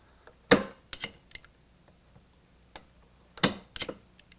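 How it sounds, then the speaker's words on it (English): Light hammer taps driving small spikes through model railroad wing rails into a track template, heard as a few sharp irregular clicks, some doubled, separated by quiet pauses. "Spike the wing rails only in the frog area."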